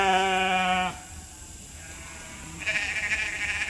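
Several young ewe lambs from the spring bleat at a summer pasture: one sustained, harmonically rich bleat up close, a pause, then a rougher overlapping bleat toward the end, with no talk.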